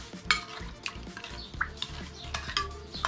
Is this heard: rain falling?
no